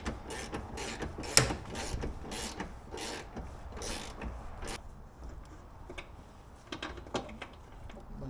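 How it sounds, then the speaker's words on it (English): Bolt work on an 80 Series Land Cruiser during an ARB twin compressor install: bursts of close mechanical ratcheting clicks, with short pauses and a louder clack early on. No one speaks. "I'll loosely install this bolt over here."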